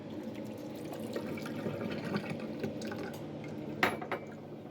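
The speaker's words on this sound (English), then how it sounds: "you just want to rinse that outer coating off your leaves" Garden leaves rinsed under running water in a kitchen, with a steady trickle and splashing, a faint clink of dishes and one brief sharper splash near the end.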